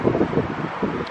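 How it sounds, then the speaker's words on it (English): Gusty wind buffets the microphone in low, rumbling waves, a steady rushing noise outdoors with no other clear sounds. "it's a little bit cold and a little bit too windy"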